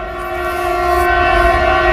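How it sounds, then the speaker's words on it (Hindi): A train horn sounds in one long, steady, multi-tone blast that holds loudly for the full two seconds, with a low rumble of the train underneath and no voices. "देखो ट्रेन वाला भी कितना एबलिया है, जानबूझ के बजाया जा रहा हॉर्न"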